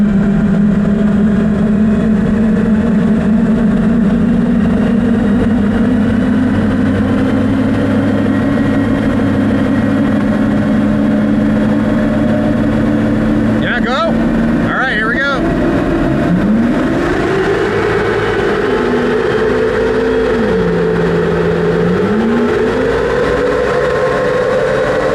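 A vehicle on 40-inch tires runs in 4th gear on a tight dyno, its engine droning loud and steady, then climbing in pitch with revs that rise and dip, under a voice talking.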